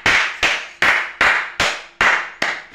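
Seven sharp, evenly spaced hand claps ring out alone, close and loud, each ending in a short room echo during a church gathering.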